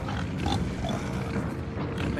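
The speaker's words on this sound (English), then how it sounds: "Man, listen to the pigs." Pigs grunting and oinking on a farm in the city-building game Cities: Skylines, a dense, steady stream of low grunts with a few squealy calls, fairly loud and continuous with no talk.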